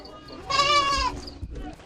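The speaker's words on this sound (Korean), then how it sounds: "한쪽이 막힌 방에서 벽을 경계로 눈에 띈 건 염소. 여긴 염소울이었습니다" A single goat gives one drawn-out, wavering bleat inside a walled goat pen shared with a children's sleeping room. It is close and clear over faint room noise.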